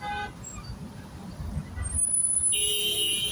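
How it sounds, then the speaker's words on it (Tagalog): Heavy road traffic jam with cars, buses and trucks idling and rumbling nearby, and a sustained car horn blaring over the congestion in its latter half. "Grabe, traffic."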